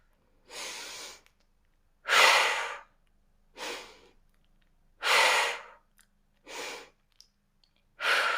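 Deep, slow yoga breaths, with six long airy inhales and exhales alternating in an even rhythm, close and clear, separated by short silences and no talking.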